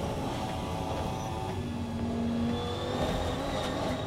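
A GT race car at full pace around the Spielberg circuit, heard onboard: a loud, continuous engine roar with steady high revs and gear changes, no talking.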